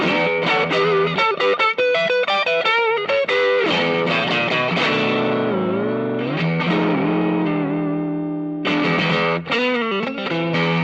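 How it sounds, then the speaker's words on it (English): An Eart Strat-style electric guitar played through its neck pickup alone rings out with a loud, distorted lead tone, bending and sustaining notes in a flowing phrase with fast runs at the start and end. "also really like the neck pickup by itself"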